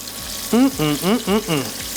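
Chicken thighs sizzle in a hot pan with a steady hiss, while a voice briefly sounds over it in a few short bursts.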